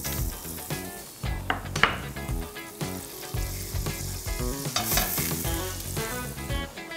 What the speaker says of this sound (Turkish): Şimdi ilk başta bu pilav tenceresine şöyle tereyağını koyuyorum.